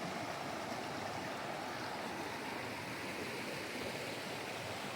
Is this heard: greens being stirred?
no